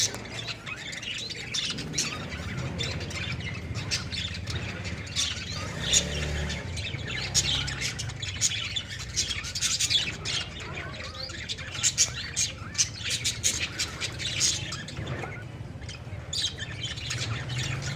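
Pet lovebirds kept in a cage for breeding keep up a busy stream of sharp squawks and quick chirps, many birds overlapping near the listener with a few louder cries jumping out.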